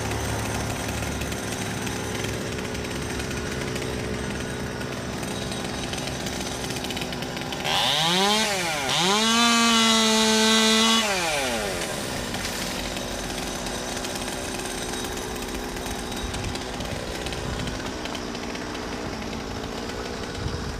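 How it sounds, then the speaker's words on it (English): A chainsaw pruning deadwood from a linden tree during commercial urban tree work, a steady buzzing idle that revs up into a loud rising and falling whine for several seconds before dropping back, with no talking. "pruning deadwood from the tree"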